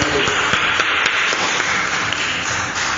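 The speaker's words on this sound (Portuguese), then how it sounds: "as palmas exaltam em nome de Jesus Cristo" A church congregation claps together in a dense, continuous patter of many hands, loud and close, with no speech over it.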